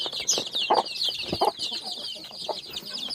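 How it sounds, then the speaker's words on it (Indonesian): Busy clucking and cheeping from a group of young chicks close by, short overlapping calls with occasional louder peeps, no talking. "Ini anak ayam yang waktu itu kita kecil-kecil ya"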